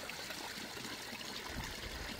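Spring water trickling along a nature trail in Latvia, a steady, close, continuous babbling flow with no voices over it.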